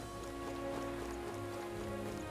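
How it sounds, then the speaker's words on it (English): Steady rainfall in the video game Metaphor ReFantazio, a soft continuous patter over a faint tonal game background hum, even and unbroken throughout. "This bloody rain."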